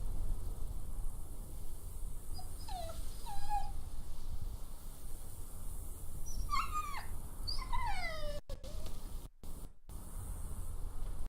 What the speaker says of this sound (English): Oh, doggo.